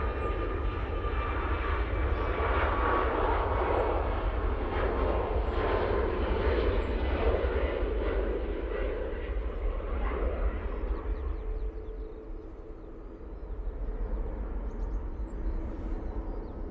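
A Boeing 787 Dreamliner departing Manchester Airport produces a loud sustained jet roar with a whining tone that slowly fades and shifts as it moves away, with no speech over it.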